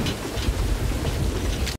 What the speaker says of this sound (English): rain just won't let up.